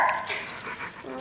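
A woman barks like a dog into a microphone, a short close, loud voiced imitation of barking and whimpering.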